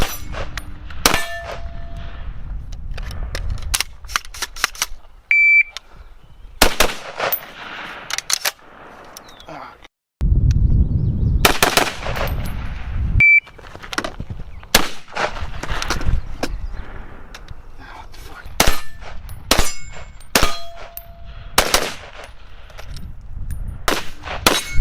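An Armalite AR-10 Type B rifle firing while suffering stovepipe failures to eject, heard as a string of sharp, loud shots and metallic clangs at irregular intervals, with quieter gaps and some handling noise between them.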